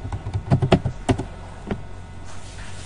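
Someone types a short command on a computer keyboard, a brief burst of several close, crisp key taps that fades to quiet room tone.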